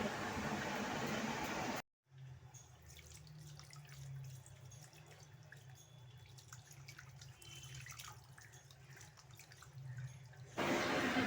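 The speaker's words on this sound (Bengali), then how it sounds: "এখানে কলের জল এসে গেছে, তো আমি কলের জলেই আজকে আমি মাছ ধুয়ে ফেলছি" Tap water gushing steadily from a faucet as fish and fish roe are rinsed under it, a close continuous splashing rush with a brief break near the start and faint background noise around it.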